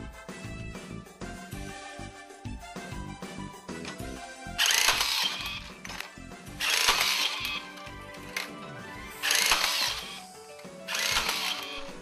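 A battery-powered Max rebar tying tool binding floor heating pipes to steel mesh mats whirs in several short bursts, each a loud mechanical twisting buzz, with quieter ticking and handling sounds between tie cycles.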